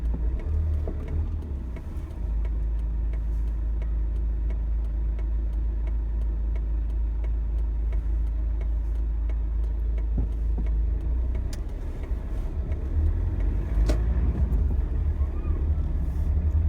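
Car idling and creeping forward in city traffic while waiting to make a left turn, a steady low engine rumble heard from inside the cabin with faint passing road noise and a few small clicks.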